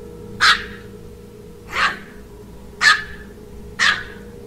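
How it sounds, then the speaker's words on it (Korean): Two Shih Tzu dogs bark in four sharp, evenly spaced bursts against a low steady hum, a frantic indoor barking rendered as a horror radio sound effect. "이 2마리의 시추가 마치 미친듯이 창고 구석에 대고 짖기 시작한 것입니다"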